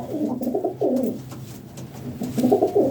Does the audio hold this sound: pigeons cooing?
yes